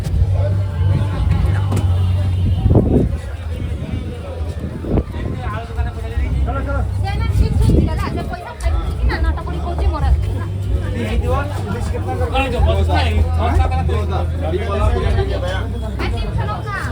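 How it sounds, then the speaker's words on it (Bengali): Busy Bengali fish market with passing cars and bus traffic, a loud mix of crowd babble, engine rumble and occasional horn bursts, with a voice speaking up close over the din. "দেখো দেখতে দেখতে ফিশ মার্কেটের দিকে চলে এসেছে।"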